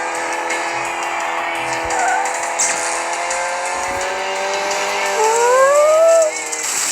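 Car tires squealing and skidding in a racing video game as the car struggles to turn, a continuous engine whine with rising pitch sweeps near the end, close and fairly loud without talk.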